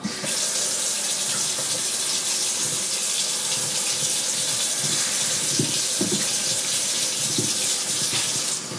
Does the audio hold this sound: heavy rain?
no